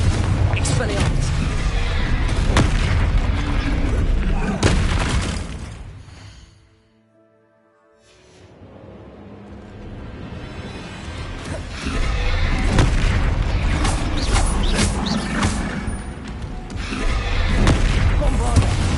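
Loud booming spell explosions from Bombarda and Confringo in the PS5 game Hogwarts Legacy, heavy blasts crowding the first few seconds, fading to near silence briefly, then returning as another sustained barrage of crashes and rumbles.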